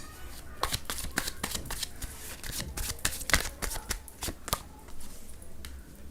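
Tarot cards are shuffled by hand up close, producing rapid rhythmic riffling slaps and flutters in quick bursts for several seconds.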